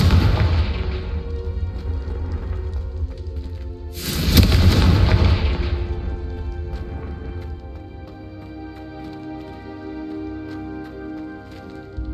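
An explosive Confringo spell goes off in Hogwarts Legacy, a loud booming blast at the start and a second big burst about four seconds in, each trailing into a long rumbling decay.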